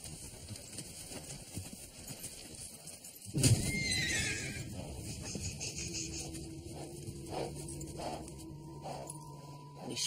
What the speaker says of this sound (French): Les chevaux ont peur.